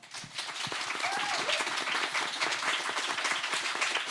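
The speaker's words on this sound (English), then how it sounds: "Big round of applause for everyone." An audience at a Pride question time event breaks into applause, a dense, steady wash of many hands clapping close by that holds at an even level, with a few faint voices mixed in.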